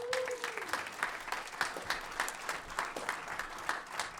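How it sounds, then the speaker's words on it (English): Scattered, fairly faint audience clapping for a performer at a concert, uneven bursts of claps in a room rather than a roaring ovation. "give a round of applause for Andrew Lee"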